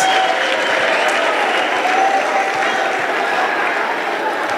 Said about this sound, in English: clap your hands for your uplines